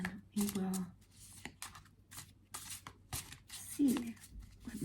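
Oracle cards are shuffled, slid and drawn by hand in soft, scattered rustles and flicks, close and quiet, with a voice speaking intermittently.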